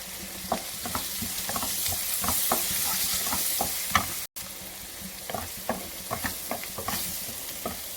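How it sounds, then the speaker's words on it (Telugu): Spring onions frying with turmeric and curry leaves for a ridge gourd curry: a steady close sizzle broken by repeated scrapes and clinks of a spoon stirring the pan, with one very short dropout midway and no talk. "ఇప్పుడు ఉల్లికాడలు కూడా వేగినాక 1 టీ స్పూన్ పసుపు, ఈ కరివేపాకు"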